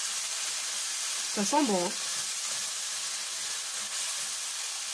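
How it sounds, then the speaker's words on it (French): Red wine hits a hot pan of vegetables and soy for a vegan bourguignon, producing a loud, steady sizzle that runs throughout, with a brief spoken phrase over it. "je vais déglacer, et non pas délayer, avec un peu de vin rouge"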